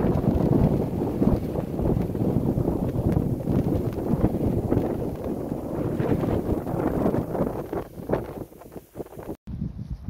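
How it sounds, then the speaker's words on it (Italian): Strong gusty wind roaring across the open ground of a mountain pass, a loud continuous rushing with buffeting gusts that batter the microphone, then dropping away abruptly at the very end. "il vento non ci ha dato tregua"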